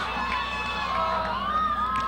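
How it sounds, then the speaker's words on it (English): Bolton fans scream and cheer steadily from the stands at a 2006 Chazy–Bolton girls' soccer game, with high shrill voices rising over a continuous crowd roar. "The Bolton faithful are screaming."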